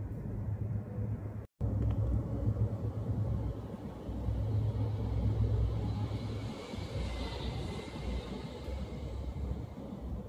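Heavy vehicles such as trailers, trucks, dump trucks and cement mixer trucks pass on a road in the afternoon, a continuous loud low engine rumble and roar that swells and fades as they go by, with one brief dropout.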